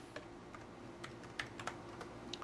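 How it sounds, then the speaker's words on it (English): Keys clatter on a computer keyboard in quick, irregular taps, faint and close, over a low steady hum with no voices. "It's maddening, I know, to watch somebody typing, especially mistyping."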